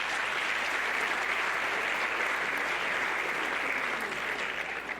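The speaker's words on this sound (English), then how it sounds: "Another round of applause." An audience at a graduation ceremony gives a round of applause, dense steady clapping from many hands that holds evenly and eases slightly at the end.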